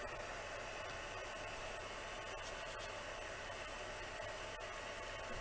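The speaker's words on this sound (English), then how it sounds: "I'm just heating the heat gun for about 15 seconds." A heat gun warming up before embossing a card gives off a steady, faint whooshing hiss of blown air, even and unbroken for several seconds with nothing else over it.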